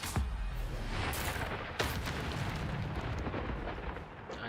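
Spell impacts in the Hogwarts Legacy video game: loud booming blasts and rumbling explosive bursts, with a sharp hit near the start and others at about one and two seconds, followed by a sustained roaring wash.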